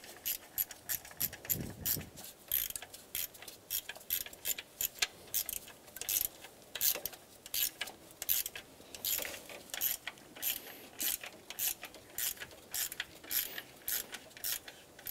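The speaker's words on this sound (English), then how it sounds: "When doing this, you want to go back and forth on each bolt, tightening them incrementally." Ratcheting wrench clicks while tightening the timing belt tensioner bolts on a 2000-2006 Toyota Tundra 4.7L V8, a fast, close, continuous run of metallic ticks in short repeated bursts.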